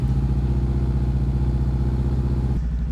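A 2018 Honda CB500F motorcycle engine runs up close with a throaty, pulsing exhaust note, holding steady and then dropping in pitch as the throttle eases off.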